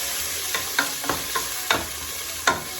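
Onions and tomato sautéed in a pan with grated ginger, heard as a steady low sizzle broken by several sharp spatula scrapes and knocks against the pan, spaced irregularly and close by.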